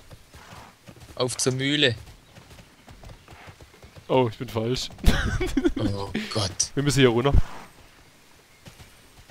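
Horse hooves clip-clop during riding in the video game Tera, a light repeating trot running under two people talking.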